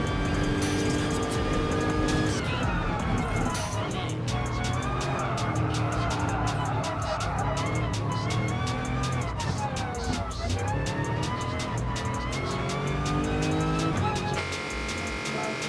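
Skidding car in Gran Turismo Sport, its tires squealing in long wavering wails over a loud engine drone and shifting revs, with a voice talking intermittently over it.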